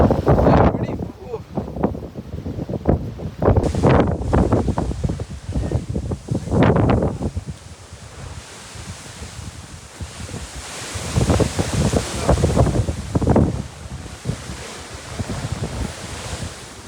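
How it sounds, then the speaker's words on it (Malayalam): Strong wind roars and buffets through a gap in the old stone walls of a hilltop fort at Madhugiri, loud gusts rising and falling close to the microphone. "ഈ ഗ്യാപ്പിലൂടെ കാറ്റ് വരുന്നതാണ്."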